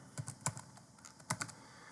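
Typing on a computer keyboard while setting up a business card and certificate layout: a few quiet, quick key clicks in two short bursts, close and alone.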